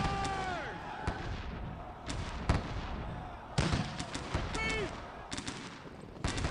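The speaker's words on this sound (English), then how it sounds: "Point blank range firing." Point-blank rifle volleys in Sid Meier's Gettysburg, a Civil War strategy game: repeated sharp musket cracks layered over a continuous roar of battle noise, with several distinct volleys spaced a second or so apart.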